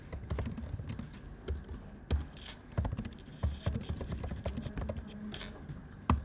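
Irregular, fairly close clicks of fingers typing on a computer keyboard, with several louder keystrokes standing out over a low room hum and no talking.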